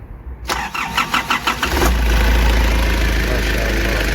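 A Nissan Urvan with a ZD30 diesel engine cranks in a quick rhythmic series of turns after a no-start repair, then catches and settles into a loud, steady, close idle.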